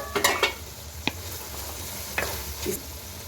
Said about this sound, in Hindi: अब हम इसको मज़ीद 2 से 3 मिनट तक भूनते हैं